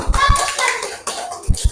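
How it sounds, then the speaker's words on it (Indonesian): Schoolchildren in a classroom clap their hands together in short bursts at the start and end, with children's voices chattering in between. "tepuk tangan"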